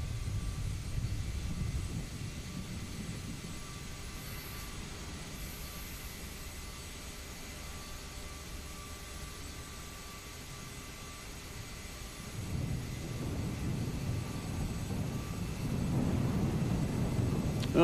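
Aerosoft CRJ 700 jet engines idle in Microsoft Flight Simulator 2024, a steady broadband whine and rumble that holds throughout and swells louder near the end.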